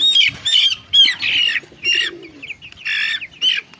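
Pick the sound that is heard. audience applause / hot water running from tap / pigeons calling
pigeons calling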